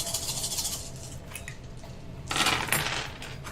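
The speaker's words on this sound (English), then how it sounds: "Get my 12 dice." Twelve dice tumble and clatter across a table during a tabletop role-playing game, a rattling burst late in the clip over low room noise.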